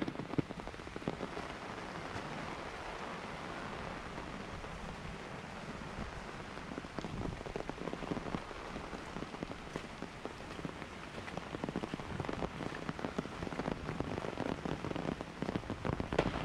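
Heavy monsoon rain during flooding pours steadily and evenly for the whole stretch, a dense close hiss with no voices and only slight swells in loudness.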